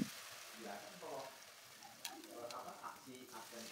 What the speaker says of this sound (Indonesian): Setelah itu celupkan ke dalam adonan tepung lalu goreng